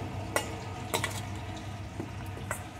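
Taro pieces being stirred with gram flour in a vessel, a soft low sizzle with a few sharp utensil clinks and scrapes against the pan.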